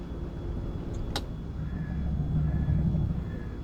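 A logging rig driving in the video game Farming Simulator 22, a steady low engine rumble with a faint whine and one short sharp click, no talking.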